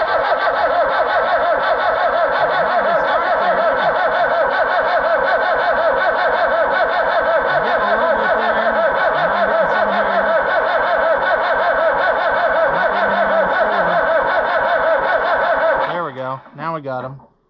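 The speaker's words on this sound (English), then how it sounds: "We'll give her a crank over and see if we can get some fuel to come out of the lines at least." An Oliver 1365 tractor engine cranks over on its starter in a long, loud, steady whirring churn with a rhythmic pulse, then stutters and winds down at the end.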